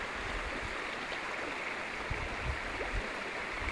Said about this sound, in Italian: siamo arrivati al fiume Fiora